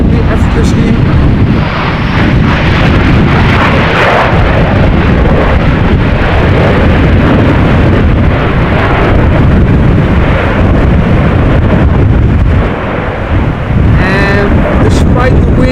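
Strong storm wind at Amsterdam Schiphol Airport roars into the microphone as a loud, continuous buffeting rumble, with gusty surges throughout and a brief tonal whine near the end.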